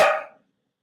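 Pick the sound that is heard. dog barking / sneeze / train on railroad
dog barking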